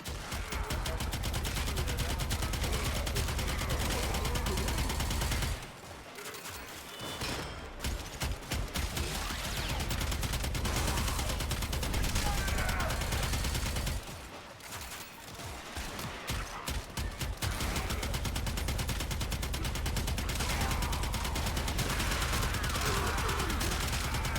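Twin Kohmak pistols in the video game Warframe fire in dense, continuous bursts, a loud rattling stream of shots broken by two brief pauses, with no speech.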